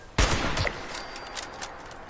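Gunfire in the video game Fallout 76: one sharp, loud shot followed by a few fainter, quicker reports trailing off, with no talk.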